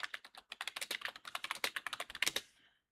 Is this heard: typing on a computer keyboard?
yes